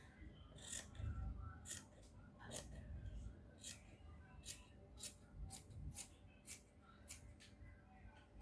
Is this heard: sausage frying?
no